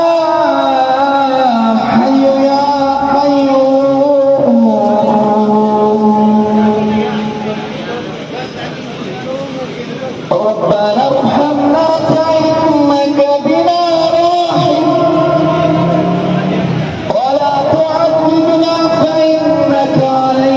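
Islamic call to prayer sung during Ramadan in Bukit Bintang, Malaysia, a sustained melodic chanting voice that carries loudly over the continuous murmur of a busy street food area.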